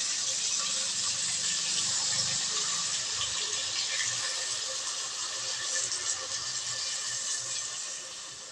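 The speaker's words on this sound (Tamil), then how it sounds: "சேர்த்துட்டு நம்ம இப்போ வந்து கரைச்சி வச்சுருக்கிற புளியை இதோட சேர்த்துக்கலாம்." Dissolved tamarind water is poured into a pot of sambar, producing a steady, close, continuous rushing pour that tapers off gently near the end, with no talking.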